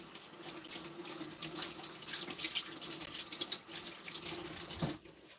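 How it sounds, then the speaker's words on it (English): Water runs steadily from a kitchen tap as hands are washed, a continuous hiss with some splashing and a brief stop near the end, fairly quiet and close. "All right, let me wash my hands."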